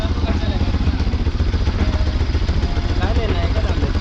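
Motorcycle engine running steadily right after a kick-start beside Vihar Lake in the jungle, a loud, close, low chugging idle with rhythmic pulsing and mechanical clatter, with people talking over it.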